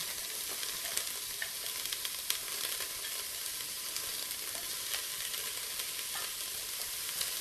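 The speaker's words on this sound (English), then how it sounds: "you can hear it sizzling" Steady, busy sizzling and crackling of onion frying in a hot pan, continuous and fairly close, with no talking.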